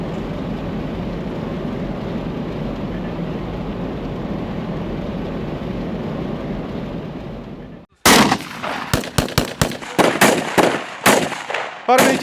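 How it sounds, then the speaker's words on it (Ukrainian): Gunfire from soldiers of a mountain assault brigade at shooting practice near the front: after a long stretch of steady rumbling background noise, loud rifle shots ring out in an uneven series of single and paired cracks. "Зараз вони тренуються, відточують свої стрілецькі навички."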